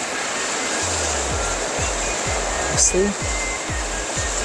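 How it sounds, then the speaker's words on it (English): Steady rain falling outside a hostel, a dense continuous hiss with a regular low thumping underneath and a brief voice partway through. "It's raining."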